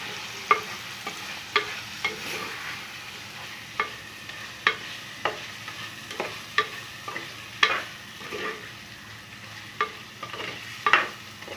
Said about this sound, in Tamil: சேர்த்து அதையும் நல்லா கிளறி விட்டுட்டு